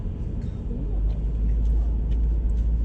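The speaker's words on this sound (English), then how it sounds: "We're gonna drive on the beach." A 7,000-pound truck drives onto a beach on the Oregon coast, its engine a steady low rumble heard from inside the cab, with faint road and wind noise and muffled voices in the background.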